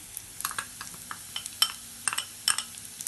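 A spoon stirs browned onions with turmeric and chili powder in a pan, giving a soft sizzle under a string of quick scraping clinks against the metal.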